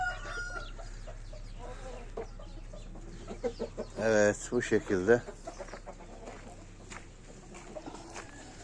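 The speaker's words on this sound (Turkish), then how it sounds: "Damızlık tavuklarımızı gösterdik." Breeding hens cluck in a short burst of loud, close calls around the middle, standing out against quiet farmyard background, with a voice speaking briefly.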